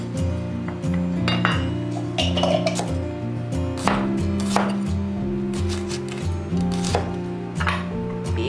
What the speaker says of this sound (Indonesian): Tapi kita potong-potong.